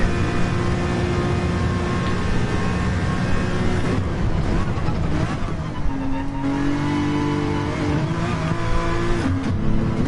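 A race car engine in Gran Turismo 7 revs loudly and steadily throughout, with a sudden upshift partway through that drops the engine note to a lower pitch before it climbs again.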